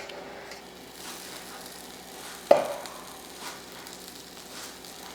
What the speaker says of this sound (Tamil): கொஞ்சம் டைம் விட்டு எண்ணெய் ஊற்றுவோம்.